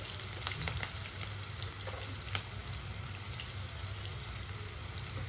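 Green chilies and other ingredients fry in a pan while making a chickpea-flour chutney, giving a steady close sizzle with light crackles and a few faint stirring taps.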